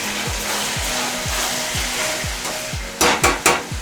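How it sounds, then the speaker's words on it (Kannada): Tomatoes frying with rock salt in a pan for a dhaba-style tomato curry, a steady close sizzle with repeated stirring scrapes and a few sharper bursts near the end. "ಟೊಮೊಟೊ ಬೇಗ ಬೇಯಲಿ ಅನ್ನೋದಕ್ಕೋಸ್ಕರ ಈಗ ಉಪ್ಪು ಹಾಕ್ತಾಯಿದ್ದೀನಿ."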